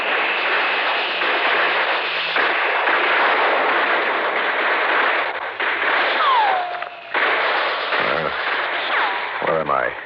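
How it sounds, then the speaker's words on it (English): Gunfire effect from a 1964 radio drama, a continuous noisy barrage of shots and blasts under a broadband crackle, with brief sliding whistles near the end. "Those are real bullets they're shooting at us over there."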